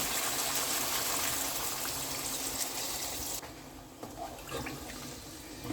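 Water pours into a pot of chicken and shim bean curry, a steady loud gush that runs for a few seconds, then drops to a quieter trickle with small splashes and clinks.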